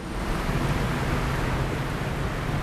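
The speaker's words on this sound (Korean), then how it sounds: "이래서 파도가 겁나다는 거야." Rough sea waves wash and rush steadily around a fishing boat off Ulleungdo, a loud continuous broadband roar with wind buffeting the microphone.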